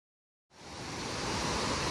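Laurel Creek Falls, a waterfall heard as a constant rushing hiss that fades in from silence and settles into a steady, fairly soft roar.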